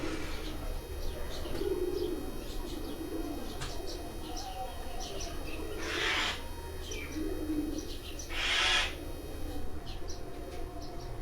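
Pigeons coo repeatedly in low throaty rolls close by, with scattered chirps and a couple of brief rustling bursts, over a steady background hum.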